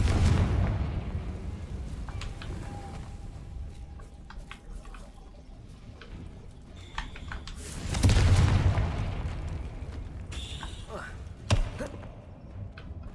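Confringo explosive spell blasts in Hogwarts Legacy, booming impacts at intervals amid game combat, with a voice shouting over the action.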